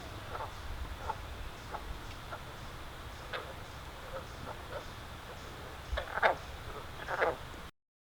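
A frog at a bird preserve gives sparse, quiet croaks and clicks at irregular intervals, with a few sharper calls near the end over soft outdoor background.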